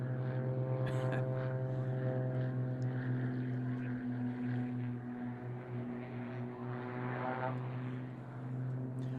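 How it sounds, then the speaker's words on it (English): Propeller-driven aerobatic display aircraft drone steadily overhead in a continuous, fairly loud engine hum with slight swells in pitch and volume, heard from a DVD recording of an air show. "Now watch the middle two aircraft as they fly upwards, and then together fly backwards through their own smoke."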